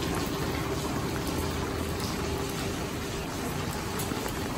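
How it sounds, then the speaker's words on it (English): Rain falls steadily during a storm on Hydra island in Greece, an even hiss of water with occasional drips and trickles, fairly quiet and constant, with no talking. "Oh, there's some water coming down."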